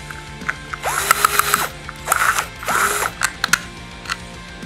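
Inch-long screws are driven into a holster assembly with a ratcheting tool, loud close clicking in several quick bursts separated by short pauses.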